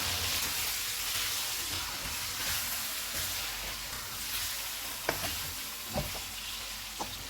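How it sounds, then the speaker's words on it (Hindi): Chicken with spices fries and sizzles in a pan for koyla karahi, giving a steady soft crackle with a few stirring clinks near the end, quiet and with no talk. "इसमें सारे मसाले डालेंगे। इनको 2 मिनट तक भूनेंगे।"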